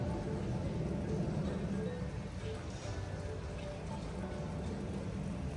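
Steady rain falls in Porto as a dense, continuous hiss of drops, heard close and fairly loud throughout with no clear break.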